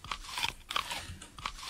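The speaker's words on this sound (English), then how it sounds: "Some very crunchy grapes." A crunchy eating sound effect plays in the Dungeon Crawl Stone Soup dungeon game as grapes are eaten: several crisp, close crunch bursts in quick succession, with no talking.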